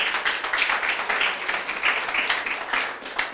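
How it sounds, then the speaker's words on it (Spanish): A church congregation claps steadily and densely for several seconds, a continuous loud wash of applause with no talking. "Aplauda al Señor, se va a aplaudir."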